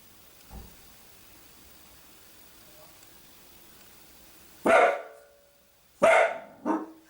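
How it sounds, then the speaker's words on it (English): A pet dog barks loudly indoors in a few sharp bursts, one single bark followed by a tight cluster of two or three, set against a quiet background with a faint thump early on. "my dog is like really barking"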